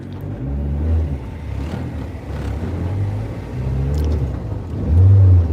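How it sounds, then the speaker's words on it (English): Acura RSX with a turbocharged Honda engine on a Rrev9 50-trim turbo kit, revving through VTEC engagement during tuning; a loud, close, steady engine drone rises in waves, swelling hardest near the end. "We got a nice little VTEC engagement"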